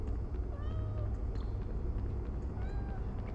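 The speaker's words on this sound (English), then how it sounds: "Can confirm, cats sometimes scream. At least in this game they do." A cat meows several times in the Harry Potter and the Sorcerer's Stone video game, with short rising and falling calls over a steady low game rumble.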